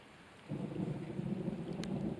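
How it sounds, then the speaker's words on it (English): A deep rumble of thunder during rain rolls in after a brief quiet moment and keeps growling low and steady, with a faint drip or tap near the end. "that thunder sounds close"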